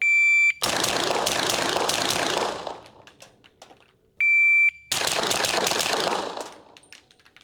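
Two bursts of rapid gunfire from a Scorpion rifle, the first with a standard trigger group and the second with a Timney trigger, each a dense string of shots lasting about two seconds, with a high electronic beep before each burst.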